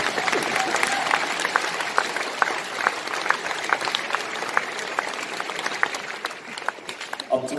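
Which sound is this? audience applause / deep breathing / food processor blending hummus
audience applause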